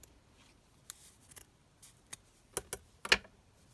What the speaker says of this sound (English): Let's just trim this down.